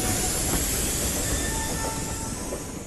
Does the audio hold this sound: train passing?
yes